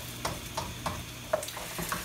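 Onions and green beans sizzling in a pan as they brown, with a soft continuous fry broken by several light scrapes and stirs, close by.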